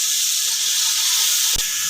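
Coriander, garam masala and red chili roasting in a pan give a steady, even sizzling hiss throughout, with one brief soft knock near the end and no talking.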